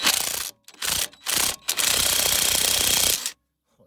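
A ratchet wrench unscrews a bolt on a car's suspension arm, giving several close, loud bursts of rapid clicking separated by short pauses, then silence, with no talk.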